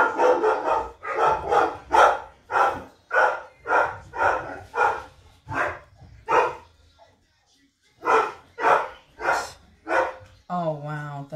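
A dog barks repeatedly in loud, rhythmic bursts, pausing briefly before a further run of barks and a closing whine, stirred up by a snow plow passing on a road after heavy overnight snow.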